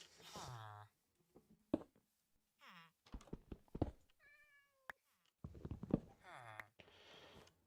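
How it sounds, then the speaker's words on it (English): A pet cat in Minecraft meowing several times in short, wavering cries, interleaved with someone talking and small thunks, fairly close but quiet overall. "these guys have a pet cat."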